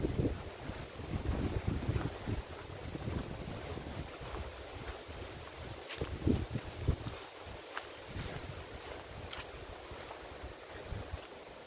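Wind buffets the microphone in low, uneven gusts on a hot sunny day in Khemmarat old town, Ubon Ratchathani, Thailand, with a faint watery, open-air wash underneath and no talking.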